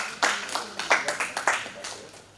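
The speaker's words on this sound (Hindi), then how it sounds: "तालियां।" Audience at a sports workshop clapping to welcome a guest onto the stage, a few loud, distinct hand claps in an uneven rhythm, close and clear, fading within seconds.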